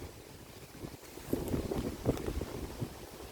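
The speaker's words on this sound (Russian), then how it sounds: "И холодно, что-то холодный ветерок такой." A cold wind blows at a lakeside campsite on Lake Seliger, a steady low rush buffeting the microphone with faint gusting swells and no voices.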